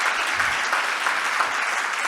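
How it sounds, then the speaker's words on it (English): Audience at a conference plenary session in Barcelona giving sustained, dense applause, a loud, even wash of many hands clapping throughout with no pauses. "Big clap for Shiva and Guru."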